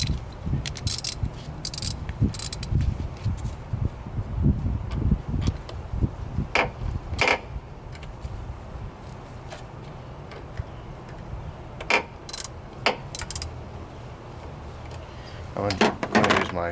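Ram 1500 battery hold-down being tightened by hand and socket, giving scattered close metallic clicks and scrapes over a low hum, with a brief rattling burst near the end.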